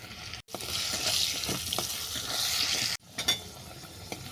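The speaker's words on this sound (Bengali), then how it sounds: "এই তেলে আমি আলুগুলোকে ভেজে নেব" Potatoes seasoned with salt and turmeric fry in hot oil, making a continuous close sizzle with a few stirring clicks and two short breaks.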